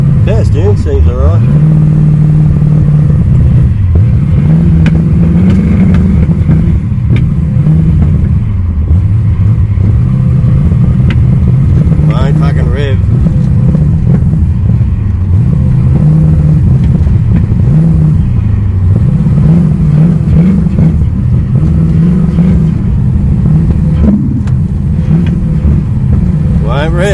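A car with an LS engine swap idling and revving during a first drive, its loud close engine note rising and falling in repeated rev swells, with voices talking over it.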